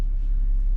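Jeep engine rumbling low and steady up close as it pulls away for a short test spin after repairs, a continuous deep drone with no voices.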